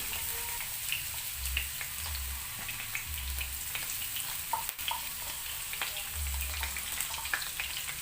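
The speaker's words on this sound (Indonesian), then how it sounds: "Tumis bumbu hingga benar-benar matang supaya enggak langu" Coarsely chopped spice paste sautéing in hot cooking oil, a steady close crackling sizzle with scattered spits and pops and occasional low stirring thumps, with no voices.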